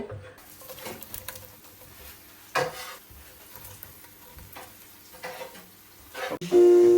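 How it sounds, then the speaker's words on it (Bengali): Onions fry and get stirred in a large pot over one of two stoves during festive Eid cooking among friends, a soft uneven sizzle broken by scraping stirs and a clang, with a brief tone at the close. "এবার পেঁয়াজগুলো ভাইজা নিতেছি"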